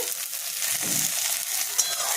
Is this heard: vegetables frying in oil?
yes